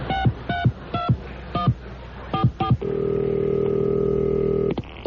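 A touch-tone telephone is dialed for a prank call on a 1982 radio show: about a dozen short, crisp keypad beeps in quick bursts, then one long, steady tone that holds for two seconds and stops.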